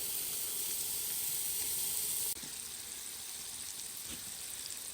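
Ground beef browns in a Dutch oven over a campfire while tent camping in winter, giving a steady close hiss of sizzling fat that drops slightly in level partway through and continues evenly.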